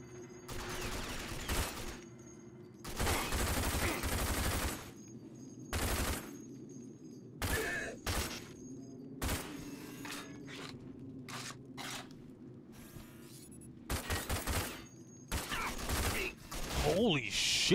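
Gunfire in the video game RAGE on PC at Nightmare difficulty: loud, repeated bursts of automatic fire and single shots, broken by short pauses, with a voice talking over parts of it.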